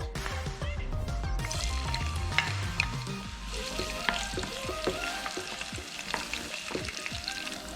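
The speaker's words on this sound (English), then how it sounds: "I'm going to add in my oil, adding in my garlic and Scotch bonnet pepper." Garlic and Scotch bonnet pepper sizzling in hot oil in a pot, a dense, continuous crackling fry with scattered sharp pops and clinks from stirring.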